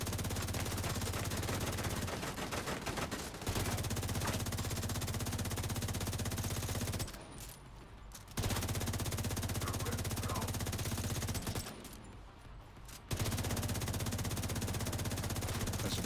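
Continuous gunfire from The Division 2 video game, a dense steady rattle of shots running through most of the stretch, broken by two brief quiet gaps, with no talking over it.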